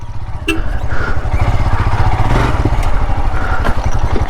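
A Royal Enfield Himalayan adventure motorcycle climbing over rocks and hills off-road, its engine thumping loudly and close with a rough, steady beat and occasional clatter.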